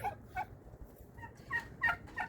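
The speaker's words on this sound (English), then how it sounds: "The turkeys are chiming in over there." Several wild turkeys gobble at a distance, in short bursts of rapid, warbling calls spread over a couple of seconds with quiet gaps between them.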